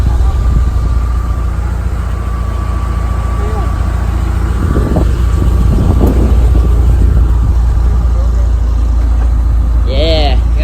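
A supercharged 2005 Ford Mustang GT with a 4.6 V8 runs with a steady, loud low rumble throughout, with wind buffeting and voices talking over it.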